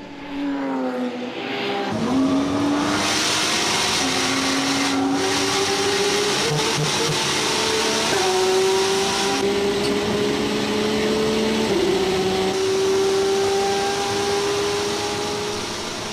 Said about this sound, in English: The GT-R closes in on the Porsche.